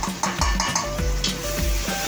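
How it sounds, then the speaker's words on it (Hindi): Ginger garlic paste frying with browned onions in a pan for an aloo baingan curry, a steady sizzle broken by rhythmic scraping stirs about every quarter second, close and without talk. "अभी देखिए, जिंजर गार्लिक का पेस्ट डाल दिया है"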